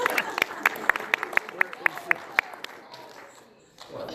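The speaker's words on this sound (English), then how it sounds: "Please give Sarah a round of applause again" A few people clap in slow, sparse, distinct claps at a convening event, the claps thinning out and fading after a couple of seconds into room quiet.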